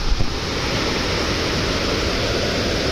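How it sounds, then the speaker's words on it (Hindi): Rushing water flows hard through a jungle in heavy rain, a steady loud roar of broadband noise without a break, close and continuous with no talking. "ज़रा पानी का बहाव देखो"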